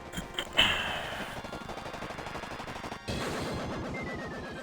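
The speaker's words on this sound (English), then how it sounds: "Oh, the machine gun." Rapid machine gun bursts from the video game Final Fantasy 7, a dense rattling stream of shots with a sharp impact near the start and a brief drop before the firing resumes loudly.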